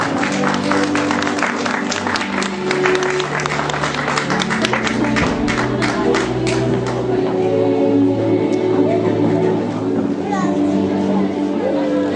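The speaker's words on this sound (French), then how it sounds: "ça mérite des applaudissements" An audience applauds at a wedding fair in Ressons-sur-Matz, a dense, loud burst of many hands clapping that thins out toward the end, with children's voices and chatter mixed in.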